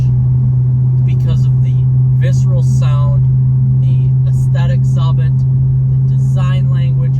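A Chrysler 300C SRT8 engine holds a steady, deep idling rumble throughout, running continuously beneath someone talking nearby.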